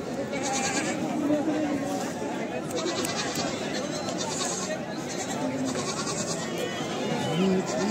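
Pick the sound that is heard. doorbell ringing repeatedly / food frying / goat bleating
goat bleating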